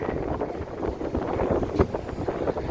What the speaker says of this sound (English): it's very windy right at this corner here.